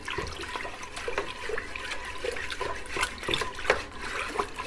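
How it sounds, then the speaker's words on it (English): Mead mixture stirred vigorously to work air into it, giving continuous sloshing, splashing liquid with repeated swishing strokes close up and fairly loud, no voices. "And now we're gonna stir this all in."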